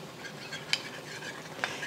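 A spoon stirs ground beef and zucchini in a thickening sauce, a quiet, close scraping with two light utensil clinks against the pan.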